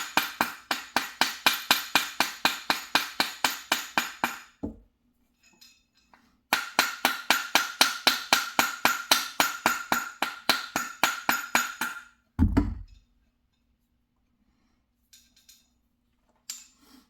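A hammer taps a gas block onto a rifle barrel rapidly and evenly in two long runs of sharp metallic strikes, with a heavier knock between and faint clicks afterward.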